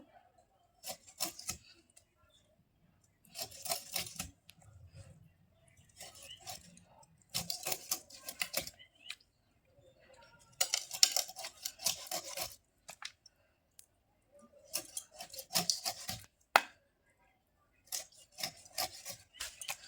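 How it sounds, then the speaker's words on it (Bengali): Knife cutting fish into pieces for a Bengali Silver Cup fish kalia curry, heard as repeated rasping, scraping strokes in short bursts with pauses between, close and moderately loud, no talking. "দেখো, তো এবার এই মাছটা কেটে নেব।"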